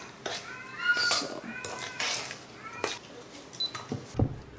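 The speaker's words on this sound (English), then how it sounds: "If you can hear my cat, I'm sorry." A female cat in heat meows repeatedly indoors, several drawn-out, wavering cries in quick succession at close range, followed by a soft thump at the end.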